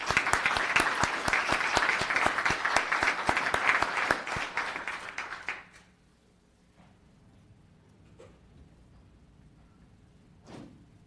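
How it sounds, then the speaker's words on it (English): Audience applause at a town council meeting, dense and steady clapping from a roomful of people for about five seconds, then cutting off abruptly into quiet room noise with a few faint knocks and shuffles. "So I'd like you all to give a warm round of applause for Elijah."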